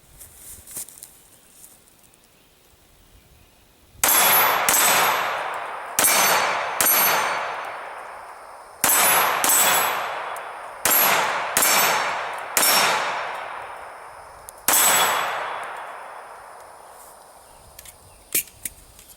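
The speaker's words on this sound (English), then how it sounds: "do some shooting to make these plates ring" A Springfield Armory TRP railed 1911 pistol fires about ten loud, sharp shots in uneven bursts, each one ringing off steel plates with a bright metallic clang that decays briefly before the next.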